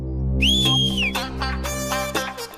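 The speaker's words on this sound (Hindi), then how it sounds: "सीटी मार रहा हूँ। ये देखो," A man gives a loud, close wolf whistle at a woman, a long rising and falling tone followed by shorter whistled notes over a steady background hum.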